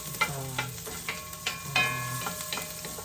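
Garlic and onion sizzle steadily in extra virgin olive oil while sautéing, with faint spatters and small clinks of a utensil over the crackle.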